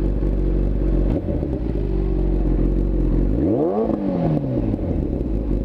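A Kawasaki ZX-10 motorcycle engine idles loudly close by, then revs up with a rising whine that falls back, steady engine rumble throughout.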